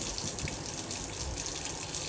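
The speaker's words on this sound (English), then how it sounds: "So I'm making some hot water warm up right now." Hot water runs steadily from a tap into a sink or basin for cleaning white Supreme Air Force One sneakers, a continuous close splashing rush with no pauses.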